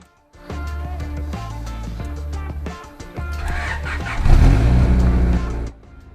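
A Honda Prelude's engine cold-starts, cranking and catching, then idles roughly before revving louder and settling back down.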